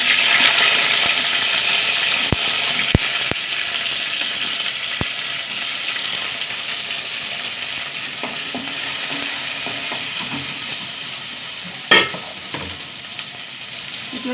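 Fenugreek seeds and small shallots fry in hot oil with a steady, bright sizzle throughout, joined by a few sharp clinks and scrapes of a spoon against the pan, and a louder stir near the end.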